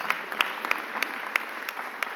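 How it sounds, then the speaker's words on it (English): Light, scattered clapping from a small group at a mayor's press conference, steady but thin, at moderate distance with no talking over it. "Give her a round of applause."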